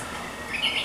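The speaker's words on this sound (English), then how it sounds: "The cuckoo clock even says so." A cuckoo clock gives a brief chirping call, a thin bright tone rising near the end of a very short moment, moderately loud in a quiet indoor space.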